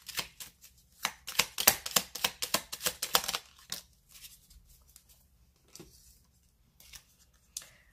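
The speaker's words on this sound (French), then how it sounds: "je vais vous tirer une carte pour voir ce que la personne de votre cœur souhaite vous dire" Tarot cards riffled and shuffled by hand close up, a dense run of quick papery flicks and snaps for several seconds that thins into a few soft, scattered card taps as a card is drawn, with no talking.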